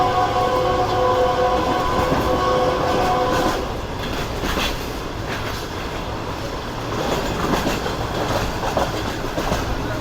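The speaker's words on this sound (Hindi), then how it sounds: "भाई काफ़ी अच्छी स्पीड में ट्रेन इस वक्त हमारी आगे बढ़ रही है" The Pak Business Express on its Karachi to Lahore run rushes along at speed with a loud, continuous rumble and rattling wheels that dips briefly midway before rising again.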